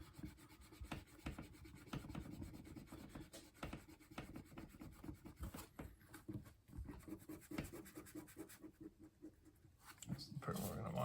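Light scratchy rubbing on the cover of a raw Hulk #181 comic during cleaning, a steady rasping scrub with soft strokes repeated close by and no speech.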